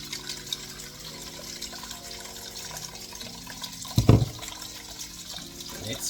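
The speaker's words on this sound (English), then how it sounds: "you're gonna pour the coconut milk" Coconut milk poured from a container over blended seasoning, a soft liquid splash and glug building to a brief louder pour near the end, with kitchen background sound.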